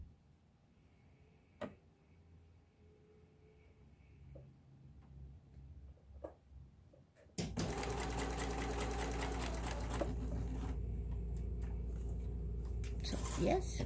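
An Elna Diva sewing machine starts up after some quiet handling noises and runs a straight stitch, a steady loud mechanical whirr with rapid rhythmic ticking that continues to the end.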